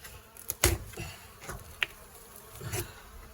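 Bees buzz faintly as they fly past close by around an attic hive, their drones swelling and fading in short bursts over a quiet background.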